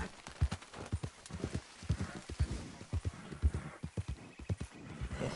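A horse in the Red Dead video game gallops with a rhythmic clip-clop of hooves close up, and a whinny breaks through along the way.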